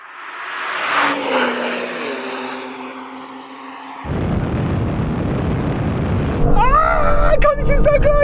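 A race car launches hard from a standing start and accelerates through a manual gear change, the engine roaring loud and close before a sharp rise in pitch, with voices talking over the run.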